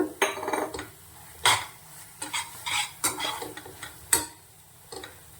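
Pumpkin halwa being stirred in a pan, with a spoon scraping and knocking against the metal in irregular bursts, close and fairly loud, over a faint sizzle.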